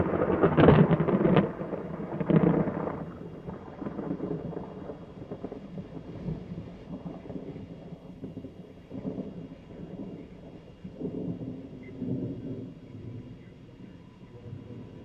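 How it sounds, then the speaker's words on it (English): Distant thunder rumbles through a huge storm, with louder low rolls early on, then a softer, continuous grumble and faint rain noise. "Starting to get some lightning now."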